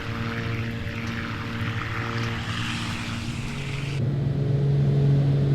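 Twin propeller engines of a Beechcraft Duke BE60 in Microsoft Flight Simulator drone steadily with a loud, continuous engine roar and buzzing harmonics; partway through, the tone drops and a lower, heavier engine note takes over.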